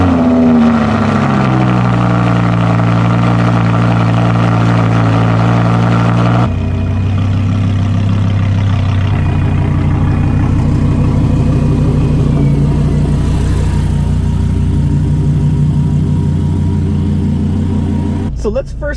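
A 2015 Audi R8 V10 fires up from a cold start, its loud, steady engine roar filling the whole stretch and shifting in tone about a third of the way through.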